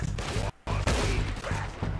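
Gunfire from a headshot in Red Dead Redemption 2, a loud burst of shots with a brief silent gap, then more dense firing continuing to the end.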